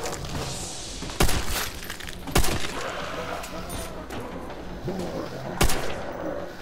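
Sharp bursts of gunfire from Call of Duty zombies mode (Nacht Der Untoten) crack out three times against a constant busy game background, with a player's voice talking over it.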